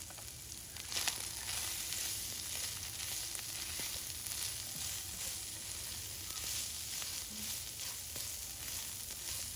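Chicken and chopped capsicum sizzle softly and steadily in a frying pan, with faint occasional stirring scrapes beneath the hiss and no speech.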